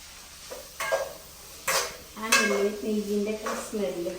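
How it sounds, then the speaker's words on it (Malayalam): Onion, carrot and beans being sautéed in a pan, with repeated scraping and stirring clatters of a utensil against the pan over a low sizzle, close by and moderately loud. "ഇനി നല്ലൊന്ന് വഴറ്റിയെടുക്കാം"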